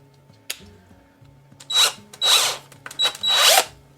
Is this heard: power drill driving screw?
yes